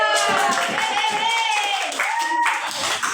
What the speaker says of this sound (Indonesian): Oke, tepuk tangan dulu untuk kita.